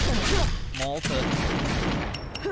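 Gunfire from the Seven Knights mobile game, a dense crackle of shots through the first second followed by a brief zapping burst, with a loud busy game mix running under it.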